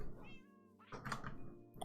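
A cat in modded Minecraft giving a short, close meow, a brief rising mew followed by a second soft cry.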